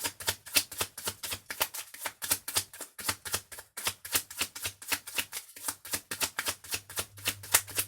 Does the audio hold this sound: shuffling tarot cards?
yes